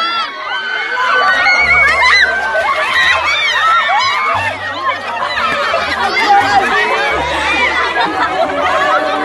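Women scream and shriek together in a crowded prayer gathering as a goat wanders in, a loud, overlapping chorus of high cries with chatter and shouting throughout, holding steady for the whole stretch.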